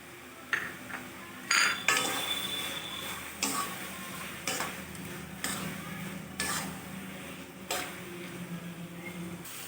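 Taro leaves with boiled chickpeas frying in a pan, a steady low sizzle broken by repeated scraping strokes of a spatula stirring, with occasional sharp clinks against the pan.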